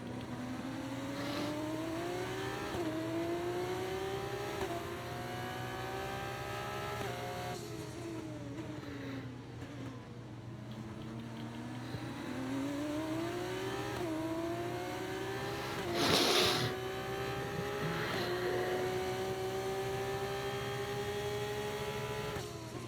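F2 race car engines in a sprint race at Bahrain International Circuit in the F1 24 game, a loud continuous whine rising through the gears with repeated upshifts and downshifts, heard close with no talk.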